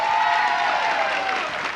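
A hypnosis stage show audience breaks into continuous, fairly loud applause, a dense wash of clapping that holds steady and eases slightly toward the end.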